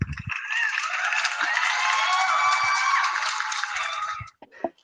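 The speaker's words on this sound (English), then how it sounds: "Please give her a round of applause." A live audience gives a warm round of applause, dense and steady for about four seconds before tapering off abruptly into scattered claps.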